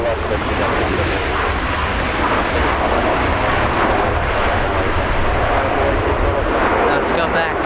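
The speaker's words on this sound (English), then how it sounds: "Delta 1773 RNF Del Rey, runway 24 left, clear for takeoff" A Delta airliner roars loudly and continuously while taking off from runway 24 left at Los Angeles International Airport, a dense sustained jet engine rumble close by, with faint talk underneath.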